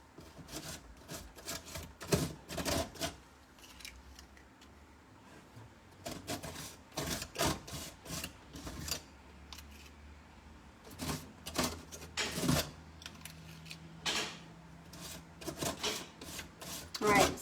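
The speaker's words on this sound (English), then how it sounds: "So once we are done getting our rust effect paste on" Gritty, textured rust effect paste is rubbed onto stenciled furniture in short, repeated scraping strokes, close and fairly faint, separated by pauses.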